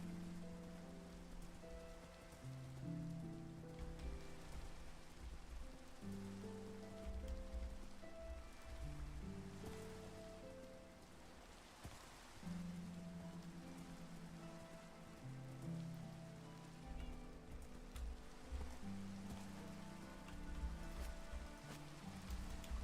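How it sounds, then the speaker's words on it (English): Rain falls in Minecraft, a soft constant patter with no speech, set under a low, shifting musical drone from the game. "I've left you out in the rain"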